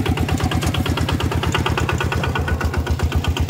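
A walk-behind tractor engine chugs with a steady, rapid single-cylinder beat, close and loud, running continuously in a rice field setting.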